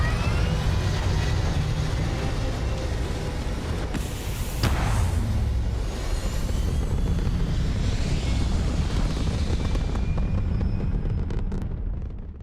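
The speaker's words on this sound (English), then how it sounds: "Liftoff looks good." A spaceship lifting off in the Starfield video game, a dense, continuous engine roar with a heavy rumbling low end that holds loud and steady throughout, swelling briefly near the middle and easing slightly at the close.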